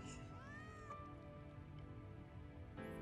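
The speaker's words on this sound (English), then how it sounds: "Look at that little cat." A small cat in the Final Fantasy 7 Remake video game gives one soft, rising meow early on, faint against a low ambient backdrop, and a brief higher cry follows near the end.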